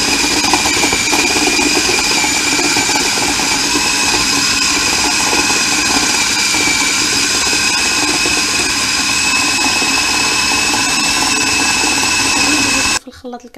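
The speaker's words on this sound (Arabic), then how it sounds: "ونطحن الخليط" An electric blender runs steadily and loudly, grinding a mixture of orange and lemon juice with sugar, its constant whirring motor drone holding for about thirteen seconds before cutting off abruptly at the end.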